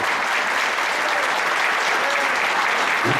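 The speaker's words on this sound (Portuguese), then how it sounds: "Uma salva de palmas especial para eles." A hall full of delegates at a trade union congress in Rio de Janeiro applauds, a dense, steady wash of clapping that stays loud throughout.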